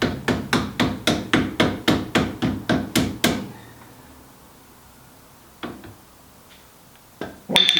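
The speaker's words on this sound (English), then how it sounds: "We might need to persuade it with something like a copper-headed mallet" A copper-headed mallet taps the nearside front damper into place on a TVR Vixen Series 3: about a dozen sharp, evenly spaced knocks in quick succession, then near silence broken by a couple of isolated clunks.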